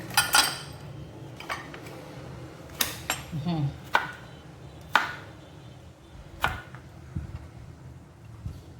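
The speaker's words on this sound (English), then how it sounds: "Then we go ahead to crush our garlic" A knife or press comes down hard on garlic on a board, giving a string of sharp, uneven knocks and crunches spaced irregularly in a quiet kitchen.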